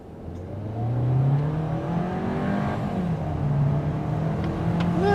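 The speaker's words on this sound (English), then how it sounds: "Let's see how this car feels acceleration-wise." A 2025 Volkswagen Taos crossover accelerating hard in street mode from a brake-torque launch, its engine droning up through rising revs with clear gear changes, heard steadily from inside the cabin with no talking.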